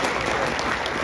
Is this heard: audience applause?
yes